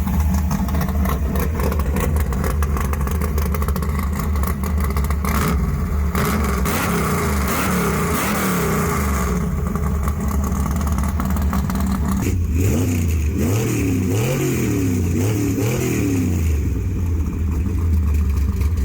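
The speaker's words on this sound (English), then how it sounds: "Let's see which one sounds better when you rev it, Anna." A 1973 big-block Six Pack Satellite muscle car engine revs repeatedly, climbing and dropping in pitch, over a steady loud rumble; the revs grow sharper toward the end.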